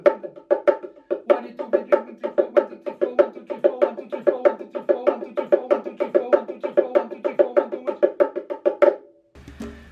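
Percussion strikes played steadily as sixteenth notes, four even hits to each pulse, a fast regular run of clear, close attacks lasting nearly the whole passage before a brief pause.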